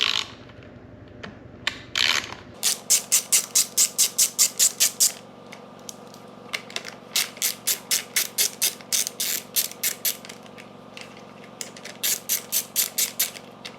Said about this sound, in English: I got my ratchet with my 8mm socket on there. So let's go ahead and remove these two.